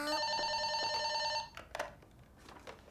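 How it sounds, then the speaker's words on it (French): A telephone bell rings loudly in a home for about a second and a half with a bright, steady trilling tone, then stops, leaving faint room noise and a few small knocks. "Maman, téléphone!"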